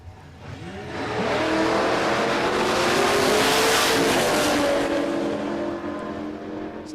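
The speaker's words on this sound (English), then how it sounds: "This will be a bit of a treat, actually, running against that blown car." Supercharged drag race cars roar down the strip at Warwick Dragway, the loud engine noise swelling as they pass and then fading, with rising gear tones and no talk.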